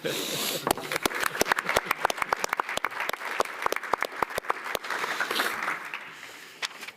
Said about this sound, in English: I think it's worth maybe a short round of applause.